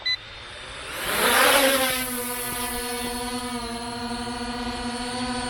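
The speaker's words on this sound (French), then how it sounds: "les moteurs tournent, c'est bon, je vais décoller automatiquement" A KFPLAN KF102 drone spins up its motors and lifts off in an automatic takeoff, a rising whine that swells into a loud, steady high-pitched buzz and holds close by, with no talking.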